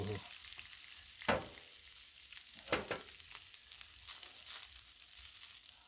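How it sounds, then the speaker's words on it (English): Bacon frying on a Blackstone griddle: a soft, steady crackling sizzle throughout, broken by a few sharp scraping strokes of a spatula on the flat steel, fairly quiet, with no talk. "It's the first thing you cook on the griddle. Bacon."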